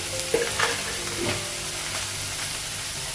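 Cumin, ginger paste and tomato fry in a hot pan, a steady close sizzle broken by a few soft stirring scrapes.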